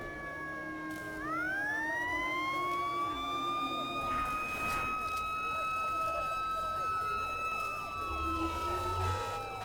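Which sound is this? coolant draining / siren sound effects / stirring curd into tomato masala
siren sound effects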